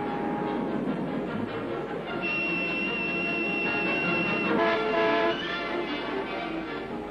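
A royal train sweeps past during a royal tour of New South Wales, giving a loud, steady rolling rumble with high, drawn-out whistling tones that rise and fade, with no talk over it.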